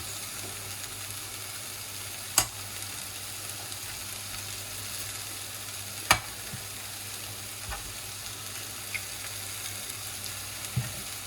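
Garlic frying in a pan during preparation of an eggplant tarte Tatin, a soft, steady sizzle running throughout, broken by a few sharp clicks and taps of a utensil.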